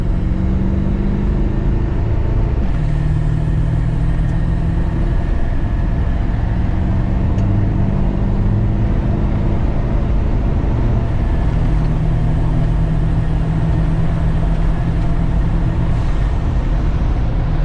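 A 7.3 Powerstroke diesel truck engine running on an 80-horsepower performance tune, with a loud, steady drone and shifting pitch as it pulls under acceleration, continuous with no talk.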